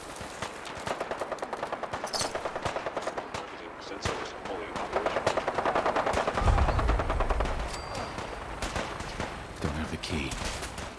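Rapid machine-gun bursts rattle through a video game shootout in long sustained runs, joined partway by a deep booming blast, loud and close, with game voices mixed beneath the firing.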